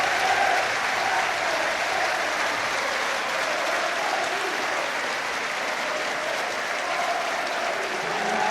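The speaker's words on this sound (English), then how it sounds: "The Celtic fans applauding too." Celtic football supporters applaud in a stadium crowd at an Aberdeen v Celtic match, a steady, broad wash of clapping that holds evenly for several seconds without a break.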